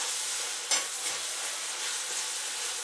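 Pork fries with onion and spring onion sticks in a hot pan, a loud, continuous sizzle with one sharper scrape of stirring near the start, and no voices.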